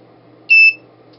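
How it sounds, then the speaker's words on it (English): One short, high-pitched electronic beep from a PIR infrared motion detector circuit kit sounds clearly over a faint background hum, lasting a fraction of a second. "So we're going to hear that beep."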